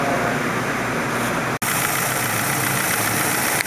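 Steady, close idle of a Ford Focus 2.0L engine just after a thermostat replacement, an even mechanical hum with a brief dropout partway through.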